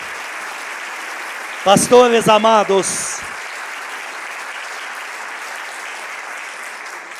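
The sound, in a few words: congregation applauding for Jesus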